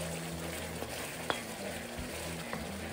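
Black Tiger shrimp tails cooking in a spicy sauce in a pan, bubbling and sizzling steadily as the liquid boils down, with a few soft clicks of stirring, close and moderately quiet with no talking.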